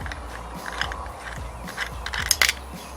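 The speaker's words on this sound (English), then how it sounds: "so you'll of course just take this nut off" Small mechanical clicks and ratcheting rattles as the nut is worked off a PIAA 510 fog light switch housing, close and fairly quiet, uneven and sparse, with a brighter metallic clink near the end.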